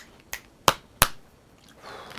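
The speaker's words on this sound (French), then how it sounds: "D'un claquement de doigts" Three sharp, crisp finger snaps ring out close by in quick succession, each a brief bright crack, followed by faint background rustle.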